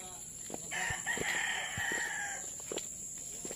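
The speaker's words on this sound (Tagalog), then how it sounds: "Tumitilaok pa mga manok." A rooster crows faintly in the distance, a drawn-out call over steady background hiss with a few soft clucks around it.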